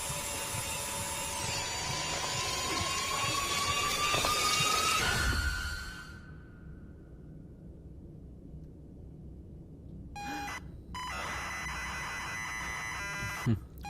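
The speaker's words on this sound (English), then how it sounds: "they're drilling a hole in my head" A drill boring into a head in the video game Stories Untold, a high whining buzz with a rising pitch that cuts out midway, followed by a quieter stretch and then a short return of electronic buzzing tones.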